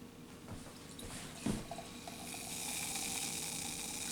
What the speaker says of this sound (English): Let them hear that fizz.